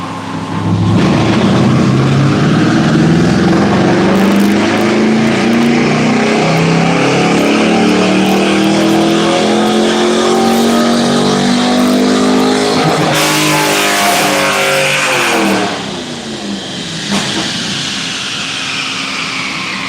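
A 2004 Pontiac GTO engine roars loud and close on a dyno, revving steadily higher over many seconds before the throttle snaps shut and the engine drops back to a lower, quieter drone.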